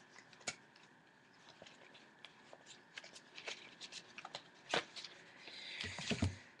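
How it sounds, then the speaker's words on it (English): A deck of tarot cards is fanned out by hand, giving quiet, close riffling ticks and soft slides that build into a brief flurry near the end. "Just fan the cards."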